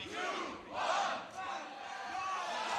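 A crowd at a beatbox battle roars and cheers in loud swelling waves, building to a peak and then surging again, dense and close with no clear single voice.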